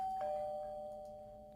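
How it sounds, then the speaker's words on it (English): A doorbell chimes twice in quick succession, a clear sustained tone that rings out and slowly fades, heard alone at moderate volume. "That is the doorbell."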